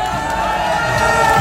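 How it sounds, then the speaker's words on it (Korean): A large crowd at an outdoor election campaign rally in Daejeon, South Korea, roars and cheers continuously, a dense wash of voices and whoops filling the clip at steady loudness. "박수로 맞아주세요"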